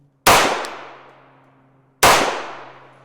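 Two sharp, loud shots from a compact Walther handgun firing Tula 115-grain ammunition, spaced about two seconds apart, each a hard crack followed by a long fading ring.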